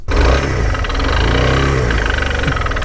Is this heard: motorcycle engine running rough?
yes